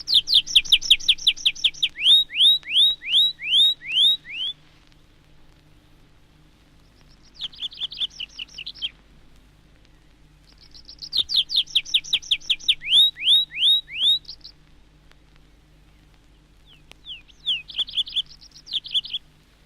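A tree pipit sings in woodland during its display flight and parachute descent to a perch: loud, close bursts of rapid, repeated sweet notes run into long accelerating trills, with two extended song bouts and shorter fragments between, no voices.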